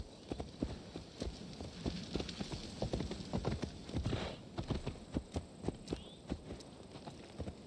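Horse hooves clip-clop at a steady walking rhythm in Assassin's Creed Valhalla, a series of soft distinct thuds, fairly quiet and close, with a low hum underneath and no talk.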